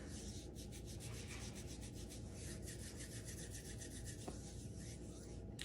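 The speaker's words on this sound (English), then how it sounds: "I want you to first rub your hands." Two hands rubbing together to warm up, a faint continuous dry swishing that goes on steadily with no pauses and no talking.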